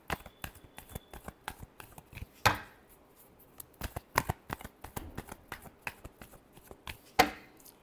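A deck of tarot cards is shuffled by hand, heard close and quiet as quick papery flicks and taps with two louder riffling bursts, without speech.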